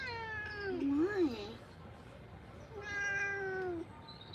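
A Maine Coon cat being bathed lets out two drawn-out, wavering meows, the first rising and falling sharply, the second long and complaining, close and fairly quiet over faint background noise.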